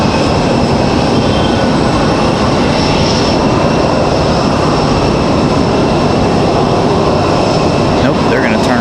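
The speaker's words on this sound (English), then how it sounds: "Here comes our CRJ." CRJ regional jet taxiing at Raleigh-Durham International Airport, a steady loud broadband jet engine roar with a high turbine whine holding throughout, close and continuous, with faint talk under it.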